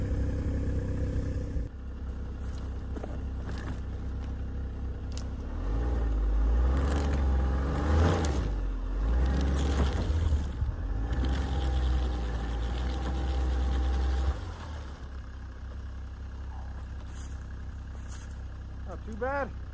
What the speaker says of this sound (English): Should be able to just unhook and drive forward.